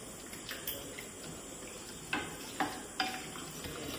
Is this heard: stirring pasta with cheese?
yes